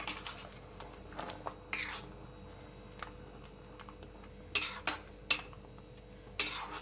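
A spoon stirs mango chutney in a pot, producing a few sharp metallic clinks and scrapes against the pot at irregular intervals over a quiet background, with no talk.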